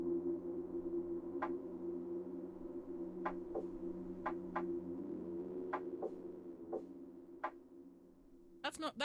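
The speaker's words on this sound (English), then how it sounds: "A series of strange tapping sounds comes from the other end of the line." Over a phone line in the game Reverse: 1999, a steady electronic hum carries a string of sharp, evenly spaced Morse code taps, about nine short clicks. A burst of louder clatter comes at the very end.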